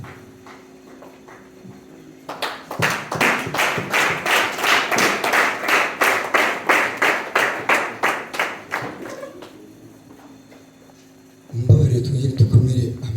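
Rhythmic, unison clapping from a church congregation at a Rwandan ministry service, a steady beat of sharp claps starting after a short pause, running about nine seconds, then fading before voices return.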